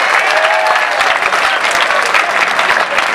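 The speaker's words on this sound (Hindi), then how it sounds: "जोरदार ताली बजाओ" Loud, dense applause from an audience claps continuously and evenly for a few seconds, close and filling the space, with no voices standing out.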